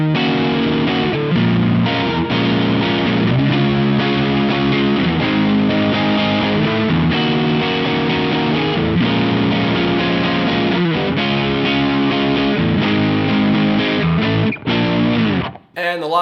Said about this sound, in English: the second channel, which is much more distorted but still quite clear